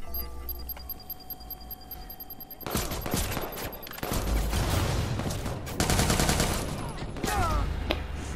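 Gunfire from a drawn gun in the video game Watch Dogs 2, starting after a quiet stretch with a synth tone and then breaking into loud, rapid bursts of shots that keep going over a dense, rumbling background.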